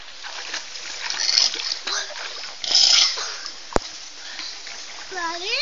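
A baby kicks its feet in water during a swimming session, giving soft, uneven splashes and sloshing while an adult speaks over it encouragingly.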